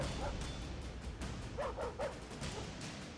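A dog attacking a young girl while several people struggle to pull it off, with a few yips and barks rising briefly through a steady background of noise and commotion.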